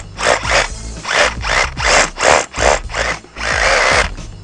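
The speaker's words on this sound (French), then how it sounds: "On perce donc le troisième trou." Power drill boring a hole into a hollow masonry wall for a resin anchor, loud and close, in a series of about eight short grinding bursts with brief pauses, ending in one longer continuous run.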